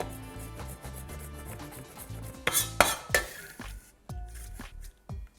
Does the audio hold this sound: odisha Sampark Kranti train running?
no